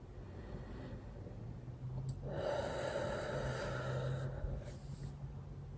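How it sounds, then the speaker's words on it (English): A slow, deep breath drawn in and let out during a calm self-care practice, a soft airy rush that swells for a few seconds over a quiet room hum. "Take a deep breath with me"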